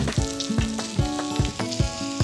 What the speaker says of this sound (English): We cook the shrimp burgers. They're at medium heat for about 4 minutes per side.